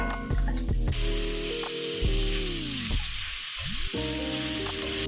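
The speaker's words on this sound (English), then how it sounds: "we can just put all of these meats in and let them start browning" Sausage and beef browning in a pan for dirty rice, a steady close sizzle with no voices.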